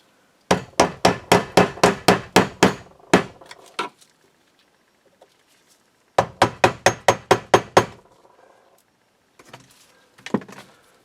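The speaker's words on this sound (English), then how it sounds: "We'll chase it around with the hammer and screwdriver" A hammer and screwdriver tap a fuel part on an Audi Q5, making two quick runs of about ten sharp, evenly spaced metallic knocks, separated by a pause and followed by a few fainter taps.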